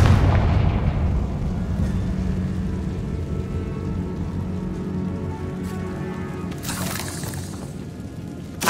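In a Hogwarts Legacy tomb, a Confringo spell goes off with a loud, crunching blast at the start, then a rumbling debris tail fades over several seconds before a second bright crash near the end.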